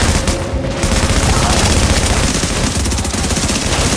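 Dense, sustained gunfire in the video game The Division, loud overlapping bursts and booms filling the whole stretch with a voice talking underneath.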